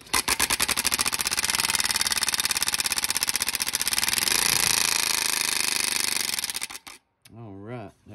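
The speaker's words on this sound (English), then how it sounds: "Let's start our motor." A small engine on a bicycle converted into a motorcycle fires up and runs with a loud, rapid, steady buzzing putter for several seconds, then cuts out abruptly, followed by a brief tonal whine.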